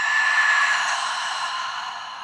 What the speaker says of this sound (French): On ouvre la bouche, on expire.